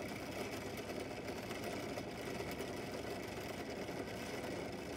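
A 127 mm hole saw cuts a disc from 6 mm PVC sheet, producing a faint, steady whirring, grinding drone that holds evenly throughout with no voices.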